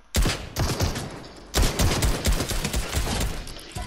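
Rapid bursts of gunfire from a shooter video game, two dense volleys of cracking shots close together, loud and continuous with no talking.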